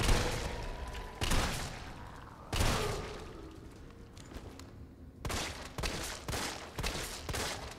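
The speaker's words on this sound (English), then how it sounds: "We will shotgun you." A shotgun fires at a pale head in Resident Evil 3. Several loud, sharp blasts each trail off into an echoing tail, with a quicker cluster of shots near the end.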